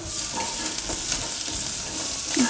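A chapati laid on a hot pan gives a continuous close hiss and crackle with faint rustling stir noises, fairly loud and even across the short stretch, with no voices.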